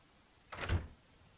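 A door opens in the video game Oblivion with a single short, soft thud and creak, quiet and brief.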